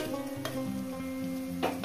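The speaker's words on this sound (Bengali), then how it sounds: "সর্ষের শাকগুলো দিয়ে আমি আরো 3 মিনিট ভেজে নেবো" Mustard greens sizzle steadily in a hot pan, with a couple of brief scraping stirs partway through; no voices.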